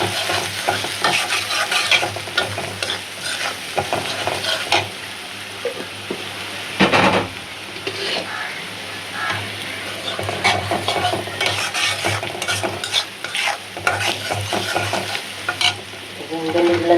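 Poa fish stir-fries with turmeric and salt in hot oil, a loud continuous sizzle with constant spatula scraping and stirring, briefly louder near the middle.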